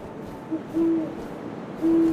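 An owl in the video game What Remains of Edith Finch gives two clear, steady hoots, separated by a short pause, over a quiet low hum.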